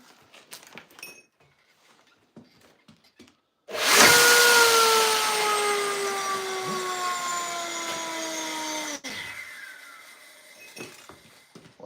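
A belt grinder used for custom knife work starts up abruptly, whines steadily at a loud pitch that sags slightly for about five seconds, then cuts off and spins down, with quiet workshop sounds before and after.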